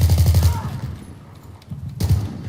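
Rapid bursts of gunfire in Battlefield 3, a fast rattling volley at the start, a quieter gap with scattered thuds, then another sharp burst near the end, loud and close.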